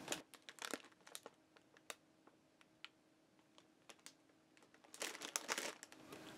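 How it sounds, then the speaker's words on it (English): Plastic packaging around a festive yarn kit crinkles and crackles in short, sharp bursts with brief pauses, rising to a denser, louder stretch of rustling near the end; close and alone, with no talking. "Before we really get crinkling, here's what the kit looks like inside the plastic."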